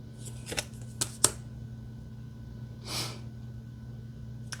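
A deck of affirmation cards is shuffled close by in a few quick riffling bursts and then a softer swish, over a quiet steady background hum.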